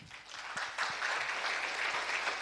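Applause from a comedy show audience, a steady crowd clapping that carries on at full loudness for a couple of seconds with no talk over it.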